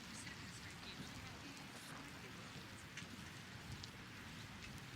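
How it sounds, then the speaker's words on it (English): Light rain keeps falling at an outdoor athletics stadium during a throwing competition, a faint, even hiss of drops over a low background rumble, steady for the whole stretch. "the rain thankfully has abated quite a bit, and the wind as well. It's still coming down"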